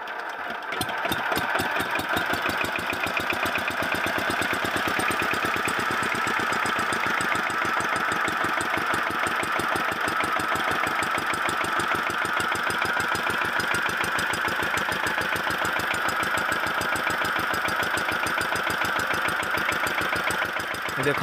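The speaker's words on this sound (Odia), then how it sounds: "ଚାଲନ୍ତୁ ଏବେ ମେସିନ୍ ଷ୍ଟାର୍ଟ କରିକି ଦେଖିବା ତ କେମିତି ମାନେ ପଙ୍କ ଉଠଉଛି" A power tiller engine drives a pump that lifts mud from a pond. It runs steadily at a loud, close, rapid chugging idle with a knocking beat, continuous for about twenty seconds without a break.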